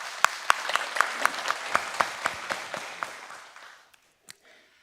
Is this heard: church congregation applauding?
yes